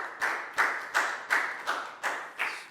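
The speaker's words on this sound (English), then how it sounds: "big round of applause for Nadia." A classroom of pupils claps in unison for a classmate, giving seven sharp, evenly spaced collective claps in a steady rhythm, close and fairly loud with no talking.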